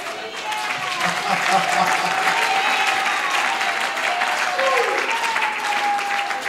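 A crowd at a political convention applauds M. Camille with sustained, dense clapping that fills the room, while a voice carries on faintly beneath it.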